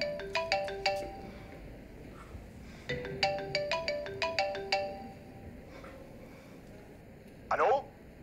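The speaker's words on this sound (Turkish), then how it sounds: "Ömer, telefonu çalıyor." A mobile phone ringtone plays a bright, repeating electronic melody in two bursts with a pause between, fairly close, followed by a short rustle.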